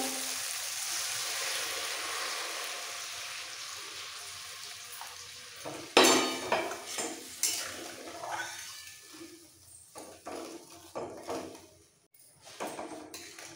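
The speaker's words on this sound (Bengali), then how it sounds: "এবার আলু আর মূলোটা সেদ্ধ হওয়ার জন্য দিয়ে দিচ্ছি একটু গরম জল।" Hot water is poured into a pan of potatoes and radish for a rohu fish curry, with a steady sizzle fading and then rough splashes and stirring knocks.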